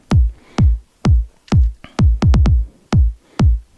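A Roland MC-101 groovebox plays a sparse techno sequence of punchy, booming kick-like hits in a steady pulse with a quick cluster of extra hits partway through, loud and dry with silence between beats.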